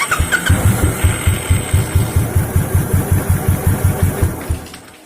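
A Royal Enfield motorcycle engine with a suspected engine sound problem runs close by, thumping in a steady, evenly spaced pulse for several seconds before the beat slows and fades out.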